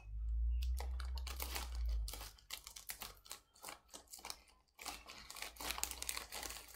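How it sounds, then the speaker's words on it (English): Cardboard packaging on a Douay Rheims Bible box being cut open up close, making a run of crisp crinkling, scraping and tearing bursts in uneven spurts, with no speech. "So, if I just cut this top off here,"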